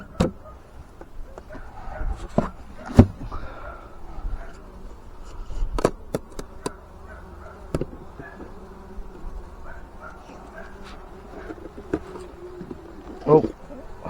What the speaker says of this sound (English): all the hive entrances are absolutely packed full of bees.